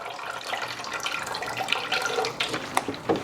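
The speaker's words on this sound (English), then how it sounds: "I'm just going to pour it in the canteen." Mosquito bits tea water poured from a container into a watering canteen for houseplants, a close, steady trickling splash with small gurgles and drips, no talking.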